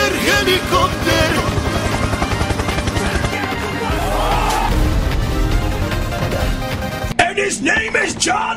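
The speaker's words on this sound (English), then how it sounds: "Helicopter." A helicopter in the Sonic vs Stickman video game whirs steadily through dense, busy game music and effects, with a brief cut and change near the end.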